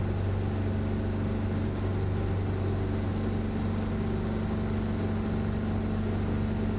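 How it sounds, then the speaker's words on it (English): Steady drone of the Cessna 337 twin piston engines in Microsoft Flight Simulator, heard from the cockpit in flight, a constant low hum with strong tonal bands and no variation in loudness throughout. "Engine sound."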